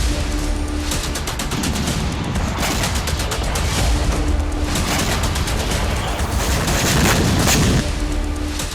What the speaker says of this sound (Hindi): पहले वो एटीएम की फोटो खींचती है, फिर माचिस से उसे फूंक डालती है, जिसमें एक तेज धमाका होता है।